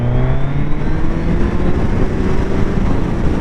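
A 2021 Suzuki Hayabusa motorcycle engine pulls hard under acceleration, a loud, close, steady roar with rising tonal whine and constant wind rush, no pauses throughout.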